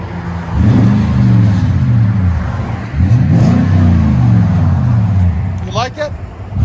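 A 2011 Toyota Tundra with a 5.7L V8 and Magnaflow dual exhaust revs hard twice, each rise swelling into a deep, loud roar and falling back, with a brief high whine near the end.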